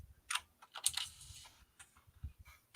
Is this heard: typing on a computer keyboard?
yes